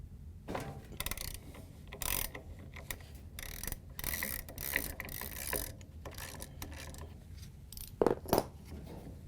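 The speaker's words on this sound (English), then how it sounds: "we can take a 7/8 inch socket with a ratchet and take the blower off" A ratchet with a 7/8 inch socket loosening the blower wheel on a Whirlpool, KitchenAid or Maytag appliance: irregular bursts of close, crisp clicking, louder near the end, with no one speaking.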